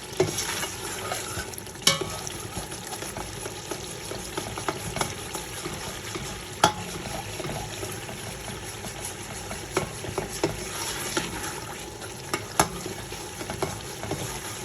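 Chicken frying in garlic ginger paste for biryani, a steady low sizzle with occasional stirring clicks and scrapes throughout, moderately quiet and with no talk.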